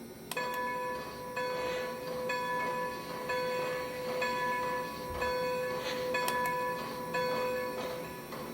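The bell of a Lionel Legacy Strasburg #90 2-10-0 model steam locomotive rings steadily, a clear repeating metallic clang at an even rhythm over a constant mechanical hum, close and fairly loud.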